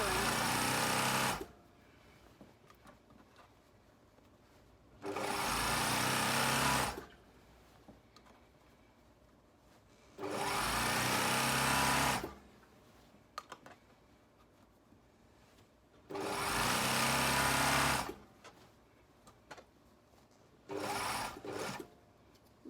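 A sewing machine stitching a stretched waistband on a Phoebe Flares garment, running in five loud bursts of about two seconds each, separated by quiet pauses with faint handling noise, with no talking.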